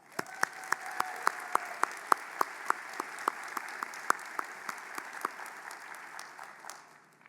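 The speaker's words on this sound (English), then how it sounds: "Let's give them a round of applause." Applause from the audience at a university doctoral ceremony, a broad wash of crowd clapping with sharp, regular claps from nearby hands standing out, tapering off at the end.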